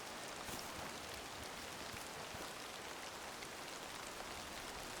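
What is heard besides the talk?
rain falling in video game Way of the Hunter 2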